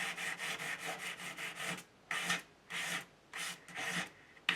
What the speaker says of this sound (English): all I'm doing is buffing here, taking the excess away, making it all nice and smooth